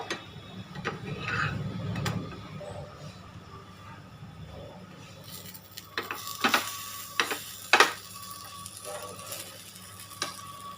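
Chicken-stuffed parota fries in a pan over a low flame as it is pressed down, a soft sizzle at first that turns into scattered sharp ticks and crackles.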